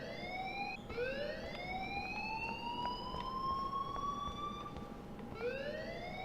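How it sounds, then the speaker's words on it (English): A loud electronic alarm in the Life is Strange video game sounds in repeated rising sweeps, like a siren, cycling steadily and unbroken with no talk. "please turn off that alarm since that's your job"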